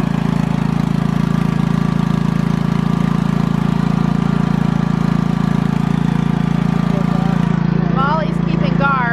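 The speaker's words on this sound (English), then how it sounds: "Sophie's getting a refresher course and driving a lawnmower." A steady, loud riding lawnmower engine drone runs throughout, with a brief higher chirp of voices near the end.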